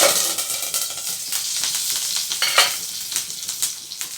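Loud, steady crackling sizzle of curry leaves dropped into hot oil, with sharp spitting pops bursting through the hiss, close up and without voices.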